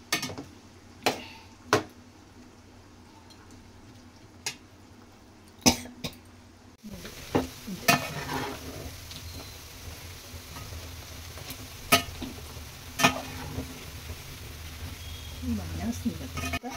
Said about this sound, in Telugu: హై ఫ్లేమ్తో గోల్డెన్ బ్రౌన్ వచ్చేంత వరకు ఫ్రై చేసుకోవాలి.